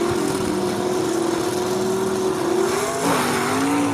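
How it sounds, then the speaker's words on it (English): Gasser drag race cars launching off the line at a Southeast Gassers event in Union, a loud, sustained engine roar with a steady high whine that wavers and shifts near the end. "both cars off the line really good"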